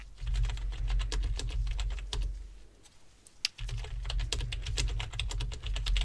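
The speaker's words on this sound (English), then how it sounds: "I'm just gonna type up your final results" Steady clicking of keys being typed on a computer keyboard at an eye exam desk, close and crisp, with a short pause in the middle before the rapid tapping resumes.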